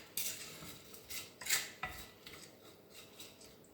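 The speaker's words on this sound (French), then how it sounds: "on fait revenir nos lardons et nos oignons" A spatula scraping and clinking in a pan of bacon lardons and onions, with several short metallic scrapes and taps in an irregular rhythm, close and fairly quiet, with no talking.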